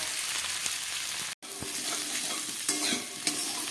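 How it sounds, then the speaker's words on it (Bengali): Pumpkin, potatoes and other vegetables fry in hot oil for a vegetarian khichuri made with leftover rice, giving a steady close sizzle with scraping stirs and a brief dropout partway through. "সমস্ত সবজিগুলোকে আমি খুব ভালো করে একটু ভেজে নিলাম"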